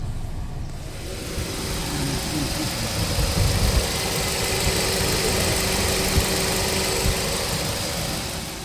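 A Suzuki Baleno engine idles steadily after a radiator fan replacement, a constant broadband hum with a low rumble and a faint knocking texture, close and continuous with no talk.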